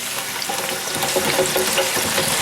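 Potato strips for french fries bubbling in hot fryer oil at about 275 degrees, a steady bright crackling sizzle that holds constant and close, with no voices over it.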